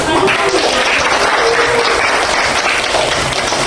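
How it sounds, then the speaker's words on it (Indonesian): Applause in a classroom coaching session, a dense, steady burst of many hands clapping together at close range, with a voice faintly audible underneath. "Maka Saya berikan aplaus"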